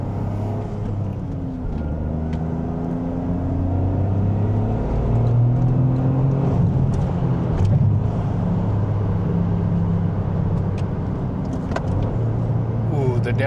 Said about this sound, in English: Ooh, the downshifts.